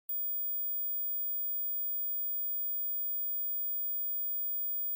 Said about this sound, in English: Now show this video to adults and you will see that they can't hear this high frequency sound.